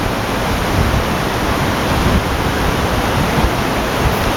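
Water rushes steadily through the Rideau Canal back-channel spillway at Manotick, a broad, continuous roar that stays even and fairly loud throughout, with no voices over it.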